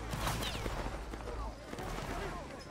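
Musket volleys in a Napoleonic Wars video game, a dense crackling fusillade of overlapping shots with distant rumbling battle noise, loud and continuous throughout.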